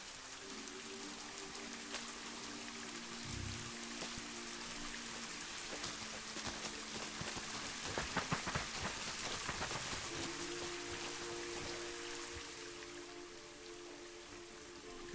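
Steady rain falls in Planet Zoo around a Malayan tapir enclosure with a shelter, an even hiss of drops spattering on surfaces throughout, with a faint low hum in the background and no voices.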